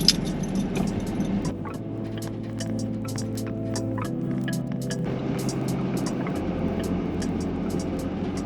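Dually pickup truck with a truck camper on a test drive, steady low engine hum and road rumble from inside the cab, with light rattles and clicks scattered over it.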